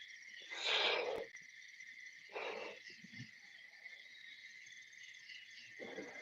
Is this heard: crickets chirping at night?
yes